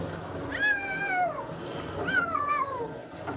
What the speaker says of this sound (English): My cat meowing for whatever reason.